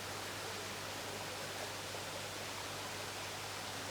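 Water rushing steadily out of a ProfiDrum shower filter running at maximum flow, a constant dense hiss of falling water heard up close with the lid off, unbroken and without any talking.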